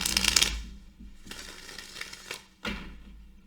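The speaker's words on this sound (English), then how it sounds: "Now, I'm going to shuffle up your tarot cards" Tarot cards are shuffled up close in a few quick rustling bursts, with soft papery riffles and slaps separated by short pauses, fairly quiet and without any talking.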